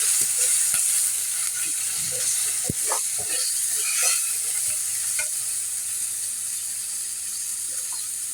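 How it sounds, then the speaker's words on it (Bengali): Ginger-garlic paste sizzling in a pan of browned fried onions while Bengali curry is cooked, a steady hissing fry with occasional stirring scrapes, close and continuous with no talking. "এখন আদা রসুন বাটাটা দিয়ে দিব।"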